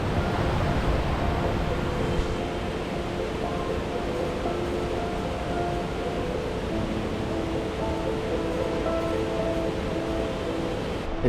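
Sgwd y Pannwr waterfall in the Brecon Beacons gives a constant broadband roar of falling water, loud and unbroken throughout, with no voices.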